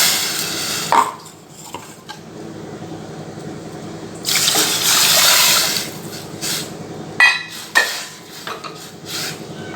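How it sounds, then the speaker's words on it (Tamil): Water poured into a soup pot holding lightly sautéed drumstick leaves, heard as a close splashing gush that swells for a couple of seconds, set among scattered clinks of utensils and pot handling, with no voices. "இப்போது நம்ம தண்ணி சேர்த்துக்கலாம்."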